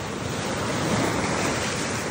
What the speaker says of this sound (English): I just think it's cool how the waves hit the rock.